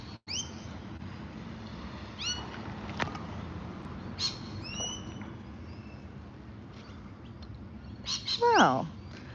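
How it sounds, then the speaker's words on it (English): Sharp, high screeching bird calls scattered over a steady low outdoor hum, with a louder squawk near the end; lorikeet-like chatter at moderate distance. "And then you have birds up here. They're lorikeets up here. I can just hear them."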